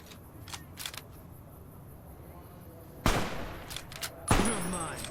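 Gunfire in Fallout New Vegas, scattered quieter shots early, then two loud sharp cracks with ringing tails close by, mixed with faint game sounds.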